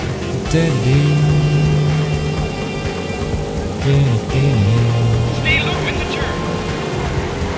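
Race car engine in the Daytona USA 2001 video game on Dreamcast revs and races continuously, pitch rising and dipping through gear shifts, with a person talking over it.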